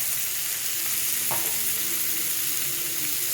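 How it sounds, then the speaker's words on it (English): Ground beef, a pound of it, sizzling steadily in a hot pan for Texas chili, a continuous loud frying hiss with a brief scrape or stir partway through, no talking. "So a pound of ground beef. Once your pan's hot, you start putting it in there."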